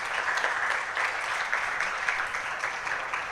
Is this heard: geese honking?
no